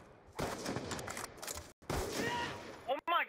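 Dense, rapid gunfire in an online shooter video game, bursts of overlapping shots in two stretches with a brief gap between, followed by a short whooshing sweep at the end; a player's voice is faintly mixed in.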